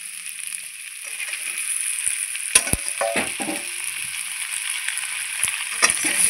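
Fried potatoes and pointed gourd are stirred through sizzling spices in a pan: a soft frying hiss under sharp clacks of a spatula scraping the pan, with a few bursts of louder scraping.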